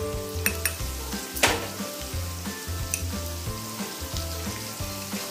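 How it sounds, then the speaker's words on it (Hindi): Spiced potato samosa filling with amchur, red chilli and garam masala sizzling and frying in a pan, with a busy crackle and sharp scraping stir clatters layered over it, close and moderately loud, no talking. "इसको थोड़ा सा भून लेंगे जिससे आलू का कलर अच्छा आता है।"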